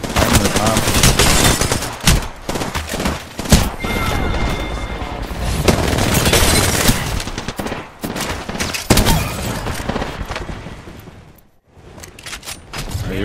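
Apex Legends gunfire fills the fight: dense bursts of automatic rifle fire and heavy shots, loud and close, with a short lull near the end before the shooting resumes.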